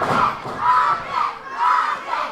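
A wrestling arena crowd roars and chants for the Rocket in a championship match against Stan The Man Sweetan, loud swelling waves of cheering and shouting that rise and fall in roughly second-long surges with no clear talk.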